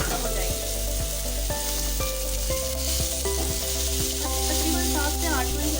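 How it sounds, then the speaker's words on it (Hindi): Fish frying in a pan for a bhagari fish dish, a steady close sizzle with a few soft stirring bumps over the continuous hiss, no talking. "बिल्कुल हल्की हल्की से मैंने इसको 5 मिनट के लिए जो है ना इसको फ्राई कर लिया"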